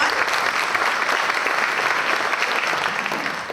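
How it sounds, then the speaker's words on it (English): Steady, dense audience applause from a crowd at a civic entertainment event, a continuous wash of many hands clapping at even loudness throughout, with no speech over it. "Let's give them a round of applause."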